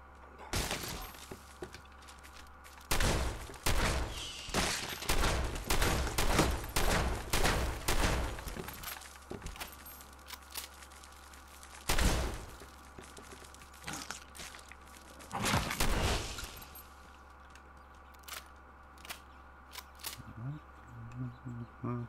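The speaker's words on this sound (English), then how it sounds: "These bullets on those eggs." Gunfire in Fallout 4 as bullets hit eggs: rapid, clustered bursts of sharp cracks for several seconds, then a lone shot and one more short burst, with quiet gaps between.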